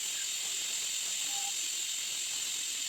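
A pressure cooker with its whistle lid on, cooking Hyderabadi mutton paya (goat trotter curry) over a full flame, lets out a steady, close hiss of steam that continues unbroken throughout, with no talking.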